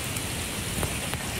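Fish frying in a pan outdoors by a river: a steady, even crackling sizzle with no talk over it.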